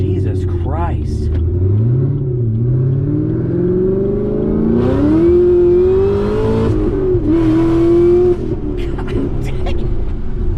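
A 2017 Chevrolet Camaro ZL1 accelerates hard, its engine note climbing steadily through a long pull with a brief shift dip, loud and close, while people talk and exclaim over it throughout.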